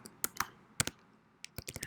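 PHP code is being typed on a computer keyboard in short, irregular bursts of close, crisp key clicks separated by brief pauses.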